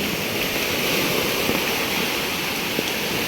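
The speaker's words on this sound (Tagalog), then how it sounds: "Malakas yung tubig." Strong monsoon floodwater rushing around moored boats, a dense, steady broadband roar of moving water with no pauses, loud and close throughout.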